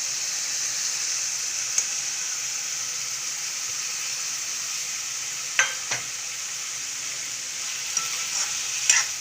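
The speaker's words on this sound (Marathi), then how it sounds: "मस्त परतून घ्यायचे बघा डाळ पण टाकायची" Ridge gourd and dal sautéing in a pan, a steady close sizzle with occasional clinks of a stirring spoon, no talking.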